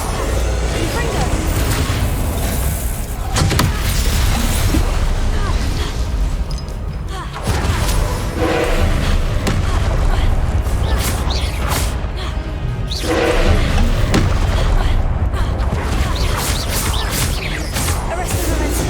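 Confringo explosive spell cast in the Hogwarts Legacy video game during a duel, loud booming blasts and whooshes repeating amid constant combat noise, with a voice shouting over the action.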